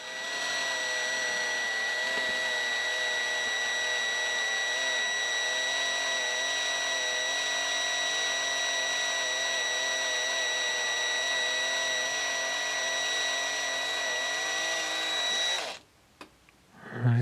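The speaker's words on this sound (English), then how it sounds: "now we're going to use a 5/32 bit to drill the rivets out" Power drill with a 5/32 bit drilling out the rivets of a Hot Wheels toy car, a steady high-pitched whine held for about sixteen seconds before stopping abruptly.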